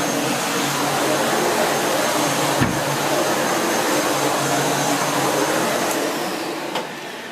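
A SEBO Felix Rosso upright bagged vacuum cleaner runs on a hard floor with a steady, loud, broadband whooshing roar, a brief knock partway through, easing slightly toward the end, and no voices.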